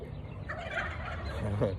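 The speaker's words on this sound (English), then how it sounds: "The chickens are alarming. So it'd be a hawk or an eagle." Several chickens raise loud, rapid clucking alarm calls together at a hawk or eagle, overlapping and continuous, close by with a busy outdoor background.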